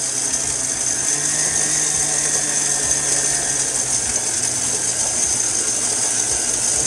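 A stand mixer kneading burger bun dough of flour, water and yeast, giving a loud, steady mechanical motor whir with a constant high whine and no talk.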